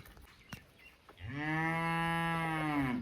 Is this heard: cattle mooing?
yes